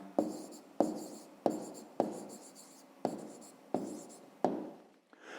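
A schoolwork answer handwritten on paper: seven evenly spaced sharp pen strokes, each starting with a crisp tap and fading into a scratchy scrape, close and alone.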